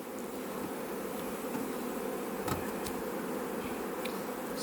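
Honey bees are shaken into a hive while a colony is split into an artificial swarm; a steady, close swarm buzz is heard with a few light knocks.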